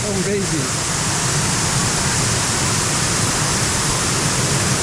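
A waterfall at Grutas de Tolantongo, Mexico, roars steadily and loudly with a dense, unbroken rush of falling water that covers everything throughout, and a brief voice is heard faintly at the very start.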